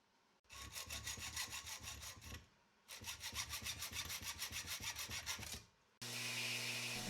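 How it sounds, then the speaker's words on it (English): A steel knife handle is scuffed by hand with 120 grit sandpaper in two long bursts of rapid, rhythmic back-and-forth rasping strokes, each burst followed by a short pause, then a steady hiss at the end. "I'm just scuffing up the steel on the handle with 120 grit sandpaper"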